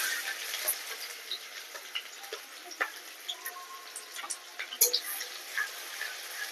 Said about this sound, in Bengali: তেল গরম হয়ে গেছে কুচুনো পেঁয়াজগুলো দিয়ে দেবো